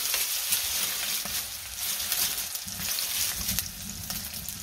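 Lentils and spices frying in hot oil, a close continuous sizzle with bursts of crackling and stirring noises, no voices.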